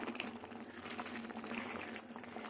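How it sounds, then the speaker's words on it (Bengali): Mung and masoor dal with bottle gourd stems boiling in a pot, a steady close bubbling and simmering texture with a low hum underneath, continuous throughout with no talking. "আর একটু ডালটা ফুটবে ফুটলেই আমি নামিয়ে নেব"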